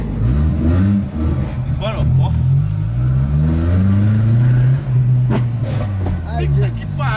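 A customized Volkswagen Saveiro's exhaust revs loudly on a city avenue, the engine note rising and falling in repeated surges, close and dominant, with people talking over it.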